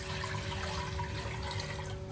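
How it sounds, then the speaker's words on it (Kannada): Water poured into a pressure cooker fitted with a stand in a home kitchen: a steady, continuous rushing stream that holds at an even level throughout, with no talking. "ಒಂದು ಕುಕ್ಕರ್ ತೊಗೊಂಡು ಅದಕ್ಕೆ ಒಂದು ಸ್ಟ್ಯಾಂಡ್ ಹಾಕೊಂಡು ಅದಕ್ಕೆ ನೀರು ಹಾಕೋತಾ ಇದ್ದಾರೆ"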